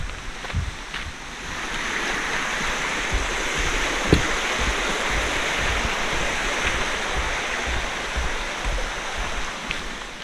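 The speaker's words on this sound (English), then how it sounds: "Starts at the water reservoir." Steady rushing water at a reservoir beside a hiking trailhead, a continuous broadband wash with faint wind buffeting the microphone and a few soft knocks, no voices.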